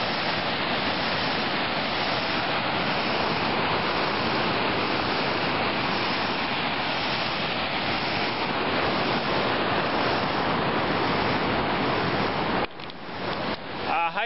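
A fast, rapids-filled river roars steadily along a hiking trail, a dense, continuous rush of whitewater close to the microphone with some wind buffeting, the flow briefly dropping and stuttering near the end.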